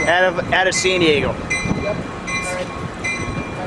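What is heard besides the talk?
Amtrak train arriving at Santa Fe Depot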